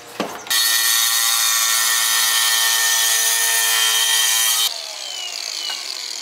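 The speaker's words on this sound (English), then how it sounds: "We're gonna use an angle grinder." An angle grinder cuts into floor tile, starting with a sharp spin-up whine and holding a loud, steady, high-pitched screech for about four seconds before the pitch drops as it eases off and winds down.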